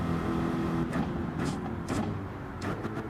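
A car engine revs and shifts up through the gears in the racing video game Gran Turismo 7, a steady droning motor with brief dips and surges at each gear change, loud and close, no voices.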